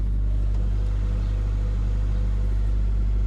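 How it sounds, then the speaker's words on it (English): A Toyota Previa, a cheap project van being revived, runs at a high idle with a steady, loud, low engine drone and rumble that holds constant throughout. "the vehicle likes to high idle for some reason. You hear that?"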